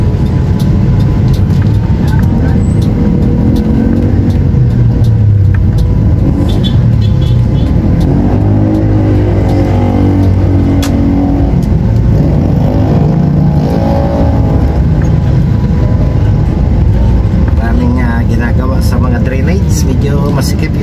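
Traffic on a congested city road near Quiapo Central Market in Manila, a loud, constant rumble of car and bus engines with passing vehicles, heard close from within the flow, with voices faintly present at times.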